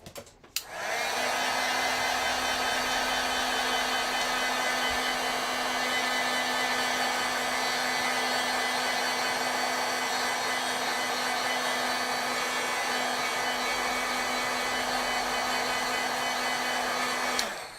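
Heat tool drying stamped ink on card: a loud, steady blowing whine starts abruptly and holds at constant level for the whole span, then cuts off at the end, close and alone without talk.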